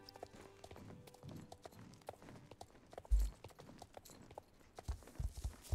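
A horse gallops in the video game Star Stable Online, its hooves making a quiet, rhythmic clip-clop with a few heavier thumps against faint background sound.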